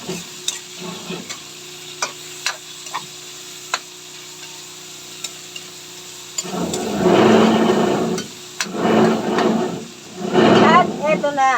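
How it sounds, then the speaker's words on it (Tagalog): Liver fries in a pan for pancit. Light ticks and clicks give way to loud bursts of sizzling that swell and fade as the pieces are stirred, close up. "Siyempre, lulutuin muna natin yung atay."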